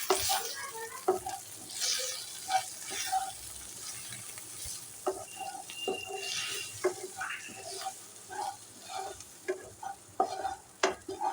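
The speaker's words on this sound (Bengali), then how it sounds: "এবার আমি মশলাগুলো ভালোভাবে মশলার সাথে মিশিয়ে নেবো" Spices for cholar dal are stirred and fried in a pan, with repeated scraping strokes of a spoon over a soft sizzle, fairly close and uneven in rhythm.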